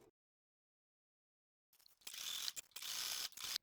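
A sewing machine zigzag-stitches the edge of one fabric onto another piece. It starts after a silent gap and then runs as a close, steady mechanical whirring and ticking, stopping briefly twice before going on.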